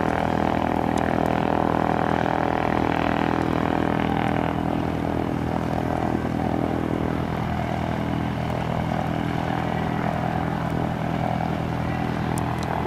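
A propeller aircraft taxis at Aurora Municipal Airport, giving a steady, loud engine drone with a constant hum that runs the whole time, with no voices.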